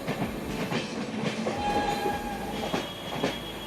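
The Kolkata–Sairang Express runs through Ranaghat station without stopping, its wheels clattering steadily and close with a continuous rolling roar and a faint high squeal, with no voices.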